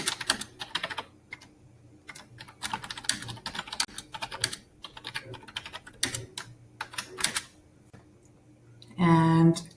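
Quick bursts of keystrokes on a computer keyboard, close and fairly quiet, with brief pauses between runs and a short tone near the end.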